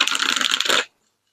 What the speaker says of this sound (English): I'm going to grab my tarot and begin to shuffle them.